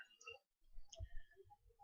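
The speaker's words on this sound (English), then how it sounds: "you can manipulate the movement of your active object by clicking on the arrow keys" A few light clicks from keyboard arrow keys being pressed to move an object in a multimedia application, quiet and close, with a brief soft voice at the start.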